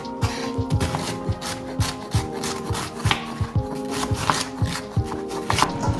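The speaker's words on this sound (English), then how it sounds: "And because these are a bit old, I'm going to peel them." Old carrots being peeled, a rhythmic run of short scraping strokes repeated roughly every half second, close and fairly loud, with no talk over them.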